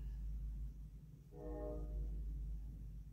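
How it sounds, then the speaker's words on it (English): Distant train heard from a hilltop home, a faint tonal horn-like wail rising briefly in the middle over a low steady rumble and quiet background hum, no speech. "I don't know if you could pick that up on the radio, but it was a train."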